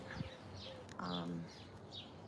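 Wild birds sing outdoors on a windy morning, with a few thin, high chirps and short sweeping calls over steady wind rumble and a brief lower tonal call in the middle.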